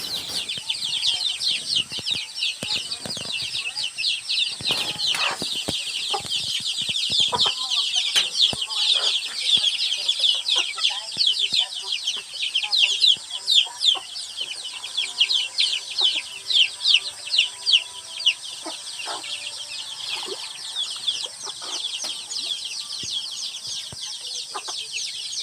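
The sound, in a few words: chickens and mother hens clucking in a backyard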